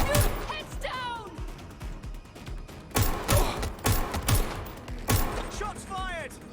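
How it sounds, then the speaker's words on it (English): Gunfire in Watch Dogs Legion, several loud bursts of rapid shots in separate clusters with sharp cracks and ringing whines, close and punchy, with shouting voices between them. "Shots fired! They're shooting!"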